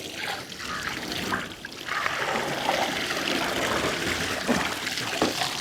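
Running water splashes steadily over goat meat being washed in an outdoor village setting, a continuous trickling stream with brief gaps and surges, fairly close and alone without speech.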